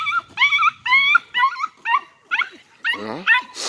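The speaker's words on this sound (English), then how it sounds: "Leah, hold your dog for a minute." Puppies from a kennel whimper and yip in a rapid run of high, whiny cries while being walked outdoors, fairly close and loud, with people talking nearby.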